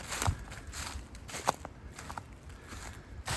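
Footsteps along an old canal towpath beside the Schuylkill Navigation System, a few crunchy, irregular steps over steady outdoor noise, close by and moderately quiet.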